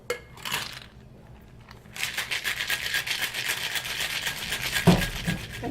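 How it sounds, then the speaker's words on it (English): A cocktail shaker holding an egg white cocktail with sake and acai liqueur is shaken hard, a steady rhythmic rattle and slosh after a brief quiet start, fairly close. "I'm going to shake this up very nice and frothy."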